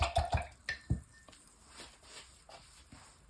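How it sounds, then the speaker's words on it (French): A paintbrush swished and tapped in a water jar, giving a few close, quiet splashy clicks and drips in quick succession, then fading into softer dabs. "je vais rincer un peu mon pinceau"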